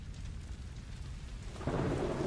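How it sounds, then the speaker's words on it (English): Steady rain with low storm rumble from the stealth game Metal Gear Solid Delta, a dense continuous wash that swells noticeably louder partway through, no voices. "I do miss the classic rain effects, though."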